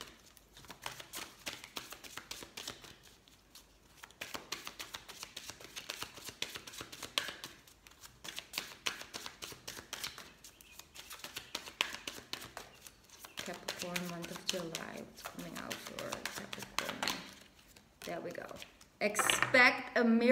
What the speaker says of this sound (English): So, I'm going to pick up a Goddess Guidance card for you as well.